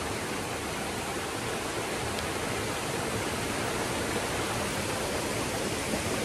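Continuous broadband rushing of falling water, steady and loud, with no voices and little change across the stretch.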